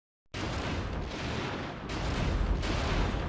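A loud explosion erupts ahead in the video game Front Mission 4, a sudden broadband blast followed by a sustained roaring rumble that swells again in later bursts, with no voices.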